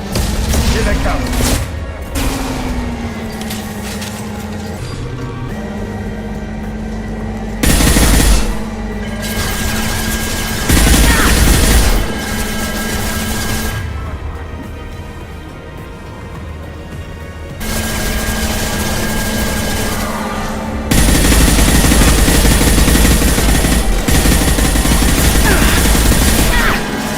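Heavy gunfire from a Mass Effect 2 firefight, with sustained loud automatic bursts, booming impacts and a droning engine-like hum, dense and close throughout with brief dips between volleys.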